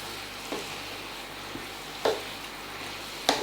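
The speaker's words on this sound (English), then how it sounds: "Give that a good mix round" Almond paste for chicken korma is stirred in a hot pan, producing a soft continuous sizzle with a few sharper scrapes and taps of the spoon against the pan.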